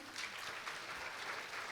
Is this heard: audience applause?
yes